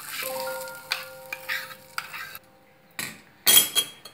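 Cabbage bhaji being stirred in a pan after a fried tempering of mustard seeds, onion, grated ginger and curry leaves is added, with close scraping strokes of a spoon and light sizzling in bursts and pauses.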